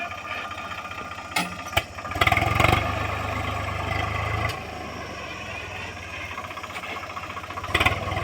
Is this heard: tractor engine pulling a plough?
yes